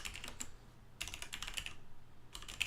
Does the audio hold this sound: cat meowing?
no